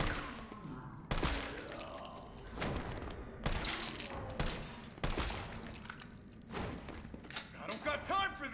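Pistol gunshots in Resident Evil 3, a series of sharp, loud cracks fired at irregular intervals, each with a short decaying tail, mixed with thuds and game effects.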